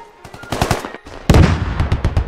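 Machine gun fire in the Squad video game rattles in quick repeated bursts, moderately distant at first, then a much louder, closer volley erupts after a brief pause.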